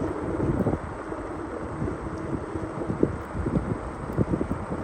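Strong wind on an outdoor trail in late autumn, gusting and buffeting the microphone in uneven rumbling bursts, moderately loud with no talk.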